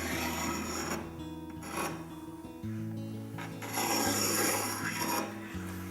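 A diamond sharpener rasps along the back of a blade edge to knock off the burr, a series of quiet, gritty scraping strokes with short pauses between them, close up.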